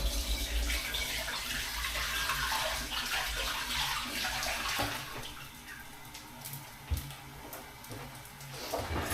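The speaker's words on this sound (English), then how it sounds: "Let's wash my hands." Hands being washed under a running kitchen tap while liver with bacon and onion is being cooked, a steady close rush of water that splashes and gushes unevenly, then thins out toward the end.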